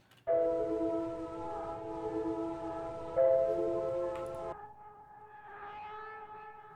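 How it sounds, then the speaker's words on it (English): Dark trap beat background effects: sustained, siren-like tonal layers swell in for about four seconds, then drop to a softer, airier high texture, giving slow movement with no talk. "what I also added is background effects to create a bit of movement"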